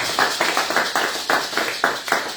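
A church congregation claps in praise of God, a steady rhythm of about two claps per second, moderately loud and sustained.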